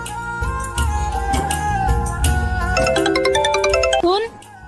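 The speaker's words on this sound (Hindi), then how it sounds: "ये तेरा फोन बज रहा है" A mobile phone rings with a loud melodic tune of bright repeating notes, ending in a rising swoop.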